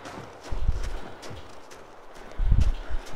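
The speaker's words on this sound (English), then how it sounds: "Jogging in the snow." Footsteps jog through snow in the video game The Long Dark, a run of soft, muffled thuds in uneven bursts, fairly close and alone.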